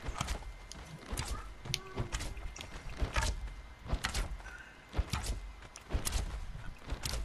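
Horse hooves from the video game Conan Exiles, a run of irregular clip-clop beats with a whinny, close and moderately loud, mixed with other game clatter.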